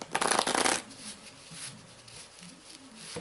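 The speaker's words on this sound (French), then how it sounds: "Hop, je montre que je mélange bien comme il faut, comme ceci." A deck of playing cards is riffled in a loud, dense burst, then quieter flicking and squaring of the deck follows, close up with no talking.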